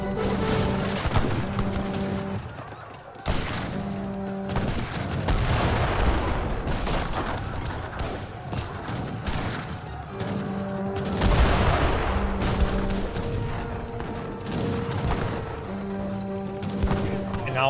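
Artillery and gunfire in an Age of Empires 3: Definitive Edition battle, repeated cannon booms and volleys of musket fire in bursts over game music, with a commentator talking throughout.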